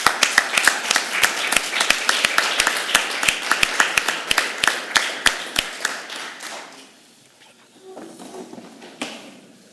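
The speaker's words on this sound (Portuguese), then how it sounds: "E uma salva de palmas." Rhythmic, synchronized clapping from a standing audience at a local parish assembly meeting, loud and even for about six seconds before it breaks apart into scattered claps and fades into near quiet.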